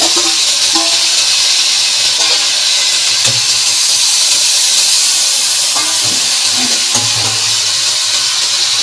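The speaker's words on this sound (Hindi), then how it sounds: "ये मैं इसको फ्राई कर रही हूँ।" Food frying in a pan gives a loud, continuous hissing sizzle that stays steady and close the whole time, broken only by a few faint clinks, with no talk.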